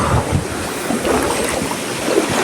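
A river rushes in a steady, broad wash of flowing water mixed with wind noise, heard close and loud for a few seconds with no talk.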